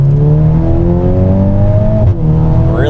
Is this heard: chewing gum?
no